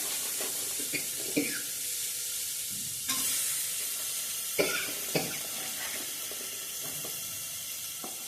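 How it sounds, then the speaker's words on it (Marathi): Chopped cauliflower tipped into a pan of sautéed green masala paste and stirred, giving soft sizzling and scraping with a few sharper clatters and sudden bursts, moderately quiet and close, no voices. "हे वाटण परतून झालंय। आता ह्यामध्ये मी बारीक चिरलेला असा फ्लॉवर घालणार आहे।"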